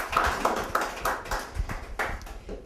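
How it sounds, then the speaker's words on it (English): Audience applause for Sandy Strickland at a soft launch party for a crowdfunded reality TV show, a moderate crowd clapping in uneven bursts for a few seconds at mid distance. "Can we give her a round of applause,"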